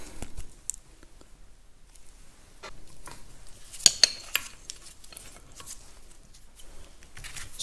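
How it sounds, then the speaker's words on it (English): A spanner nut comes off the shaft of a Caterpillar D2 crawler tractor, giving light metallic clinks and scrapes with a couple of sharper ringing taps, close and intermittent against a quiet workshop background. "Spanner nut comes off now."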